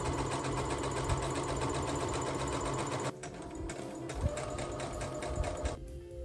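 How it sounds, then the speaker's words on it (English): Sewing machine stitching fabric, a fast steady mechanical chatter that stops briefly at about three seconds, then resumes at a slightly different pace before ending, close and clear. "I have decided to start sewing the inside part of this project to just have it easier"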